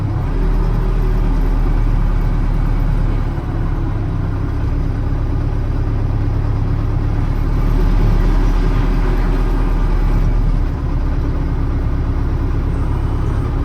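A vehicle engine idles and rumbles steadily at close range inside a grain warehouse as the truck pulls off and unloads grain, a continuous loud drone with no talking.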